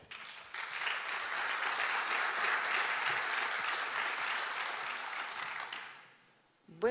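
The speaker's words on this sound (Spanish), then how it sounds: "Un aplauso para ella." An audience at a Chilean innovation forum gives a sustained round of applause that swells, holds steady for about six seconds, then fades away.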